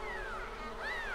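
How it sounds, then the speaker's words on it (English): Bees buzz steadily in The Sims 4 game, a close, continuous drone with wavering pitch that rises and falls, with no voices. "Let's go and bond with bees."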